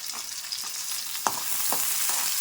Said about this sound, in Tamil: எல்லாம் ஒன்றா போட்டு நல்லா வணக்கிக்கலாம்